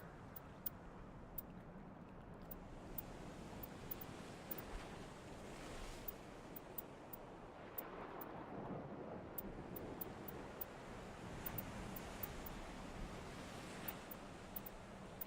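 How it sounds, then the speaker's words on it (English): Ocean surf on a beach in Mass Effect Legendary Edition, a steady soft wash of waves with gentle swells and faint wind, broken by sparse clicks. "It sounds really peaceful here with the waves going."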